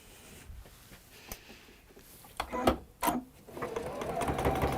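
A sewing machine stitches fabric in short bursts, starting and stopping with sharp mechanical ticks before running into a longer, louder steady whir near the end.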